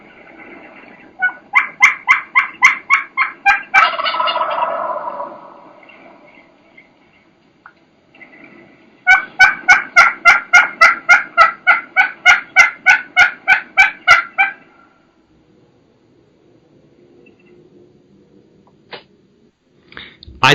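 Wild turkeys gobbling and yelping outdoors during a western turkey hunt: two long runs of rapid, aggressive, evenly spaced yelps, the first ending in a rough gobble-like burst, then a quiet stretch with a few faint clicks.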